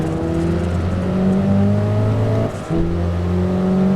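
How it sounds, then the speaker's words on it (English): A Dacia Sandero RS racing engine in a video game hillclimb whines steadily at high revs, dipping briefly during a gear change before climbing again; loud and close, no voices. "I can just hear the noise coming from its exhaust. Well, from its engine, rather."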